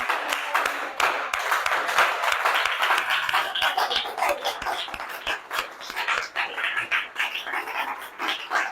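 Small church congregation at a French-language evening service standing to applaud and acclaim Jesus, a sustained burst of clapping with scattered cries, moderately loud and fairly close.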